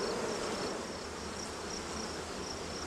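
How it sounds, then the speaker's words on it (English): A large, crowded honeybee colony hums during a hive split, a dense continuous buzz of many bees heard close and steady, with no talking. "So this colony is floor to ceiling bees."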